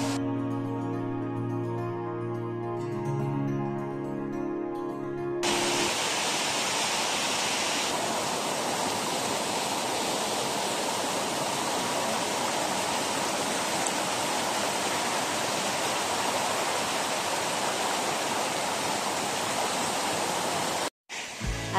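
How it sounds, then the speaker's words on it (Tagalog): Bega Falls, a cascading waterfall in Agusan del Sur, roars as a loud, steady broadband rush of falling water, continuous and close; a short stretch of music plays over it at the very start. "of the most beautiful cascading waterfalls I have seen so far."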